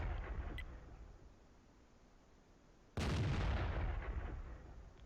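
A T92 self-propelled artillery gun fires a single heavy shot in a tank video game, a sudden loud boom at mid-clip that rolls away with a long decaying rumble over steady background noise.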